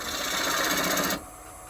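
A bowl gouge cuts yew wood spinning on a lathe, a steady close grinding, rasping whir that stops abruptly after about a second, leaving the lathe's lower hum running.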